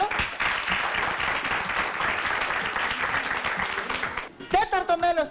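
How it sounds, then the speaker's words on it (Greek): A warm round of audience applause for Mr. Evangelopoulos fills the room, dense and steady for about four seconds before fading as a voice begins speaking. "Ένα θερμό χειροκρότημα παρακαλώ."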